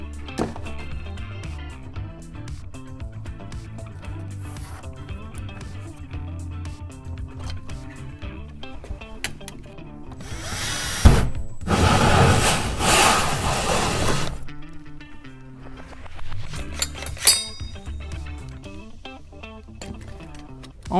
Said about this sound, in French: afin d'être sûr d'être droit au moment de percer